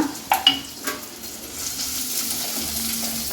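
Onions sautéing in a pan with another ingredient for a prawn thokku, two sharp clatters at the start, then a steady close sizzle and frying hiss without talking.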